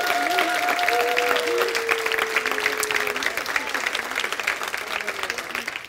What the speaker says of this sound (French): On va faire monter une acclamation devant Jésus,